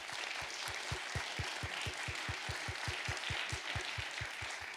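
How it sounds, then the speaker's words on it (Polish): Warm applause from a studio audience welcoming two guests to a Polish talk show, a broad steady wash of clapping with a strong regular low thump running underneath throughout. "Gorące brawa."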